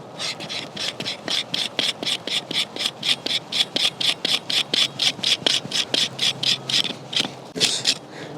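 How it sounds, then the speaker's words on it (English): A knife scrapes fat wood in steady, rapid strokes, around thirty rasping passes in a brisk even rhythm, close up and loud with nobody talking. "We're going to see if we can scrape some fat wood here."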